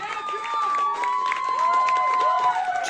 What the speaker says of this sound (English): Give a huge round of applause for my band, Jake, Jackson, Joe.